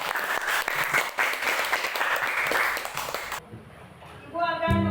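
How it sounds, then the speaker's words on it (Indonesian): A group claps together for a few seconds, a steady burst of applause in a room, which then fades out as voices continue. "Kita beri tepuk tangan."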